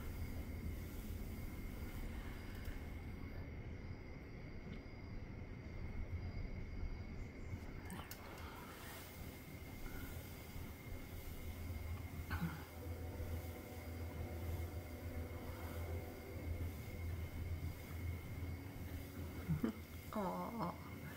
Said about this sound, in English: That train is not coming into my backyard.